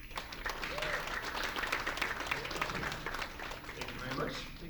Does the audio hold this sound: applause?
yes